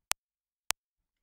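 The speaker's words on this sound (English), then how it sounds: "And the last layer is a click" Two short, sharp clicks about half a second apart, isolated against silence.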